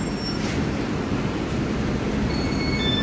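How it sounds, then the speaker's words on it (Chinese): A Danhai light rail tram on New Taipei's Light Rail arriving at Hongshulin station, a steady loud rumble of wheels and running gear with faint high squeal, continuous and close, no talking. "新北捷运淡海轻轨红树林站来了来了"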